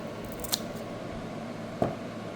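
Scissors make two crisp snips, about a second apart, as they cut tape on a diagonal for posting Doberman ears, close and quiet in a still room.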